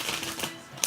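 Oversized Gothic Tarot cards are shuffled by hand, giving a few quick, crisp riffling snaps close up with a sharp final click.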